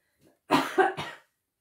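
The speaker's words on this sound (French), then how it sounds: "Je risque de tousser." A person gives one close, fairly quiet cough of two or three quick bursts, preceded by a faint short throat sound, alone with no talk.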